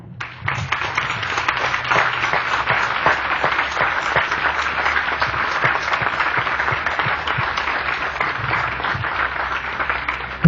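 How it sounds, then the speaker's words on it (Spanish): A church congregation applauding loudly and continuously during a sermon, dense clapping that holds steady for several seconds without talk. "Vamos a darle un aplauso,"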